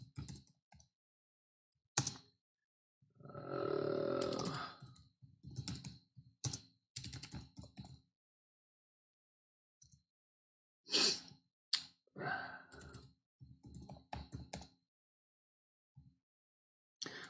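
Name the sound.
typing on a computer keyboard to write down a team lineup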